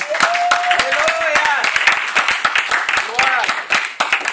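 Scattered, fairly loud clapping from a church congregation, broken into sharp individual claps, with cheering voices and joyful calls rising over it.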